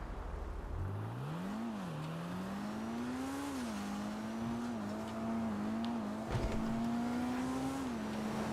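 A car engine in GTA Online whines steadily as the car is driven, its pitch climbing and dropping with shifts and throttle changes, fairly close and even, with no talking.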